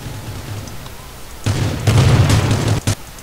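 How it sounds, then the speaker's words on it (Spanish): Gunfire and explosions in the battle-royale video game Rules of Survival, with heavy booming bursts rumbling in after a quieter start and a few sharp cracks near the end, loud and close. "¡Están disparando!"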